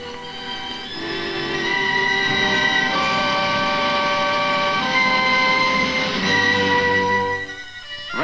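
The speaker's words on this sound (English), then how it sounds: "Railways specially laid from the pits carry away the limestone to be made into cement" A freight train hauling limestone from quarry pits rolls past with a loud, sustained tonal whine and rumble, swelling up and holding before easing off near the end, heard alone without voices.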